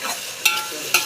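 Ginger garlic paste, green chillies and tomatoes stirred in a pan: two sharp spoon scrapes about half a second apart over a faint, steady sizzle, close by and with no voices.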